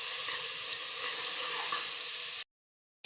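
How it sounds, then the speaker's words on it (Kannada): Coconut milk poured into ginger-garlic paste with coriander and mint frying in a pan for ghee rice, a loud steady hiss and sizzle that cuts to silence near the end. "ಇದಕ್ಕೆ ಈಗ ನಾವು ಕಾಯಿ ಹಾಲನ್ನು ಸೇರಿಸ್ಕೊಳ್ಳೋಣ."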